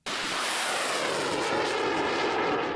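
A fighter jet flies with a steady, loud, broad roaring rush that holds for several seconds, and no voices are heard.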